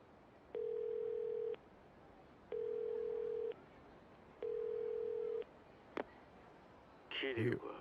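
Three long, steady dial-tone beeps from a payphone receiver in Yakuza 0, evenly spaced with gaps between them, followed by a click and then a short burst of voice.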